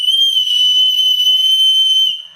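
A single loud, shrill whistle blast held steadily for about two seconds close by, then cut off, with no talking.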